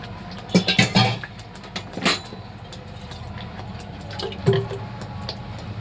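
Water poured into a pan of katla fish curry, with a few short splashing pours and light clinks from the bowl early on, then a quieter steady trickle; no talking.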